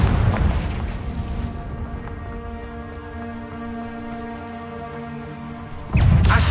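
A Confringo blasting curse detonates in Hogwarts Legacy, a loud burst at the start decaying into a ringing tonal tail, then a second sharp blast near the end.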